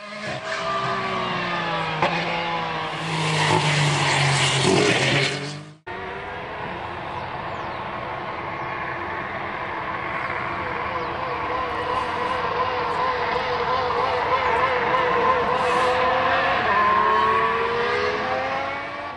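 A Formula 1 car runs on a wet track during testing at Jerez, its engine a loud, sustained high-revving whine that rises and falls with gear changes, first close and harsh, then steadier after a sharp cut.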